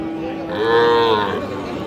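A calf lets out a single drawn-out moo, close and loud, rising and fading over about a second against faint background chatter, at a cattle market in Aftabganj.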